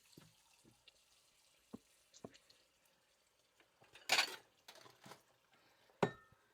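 Water runs briefly from a kitchen tap into a measuring cup for cooking curry, amid scattered clinks of glass and utensils, with one louder splash of pouring and sharp knocks around it.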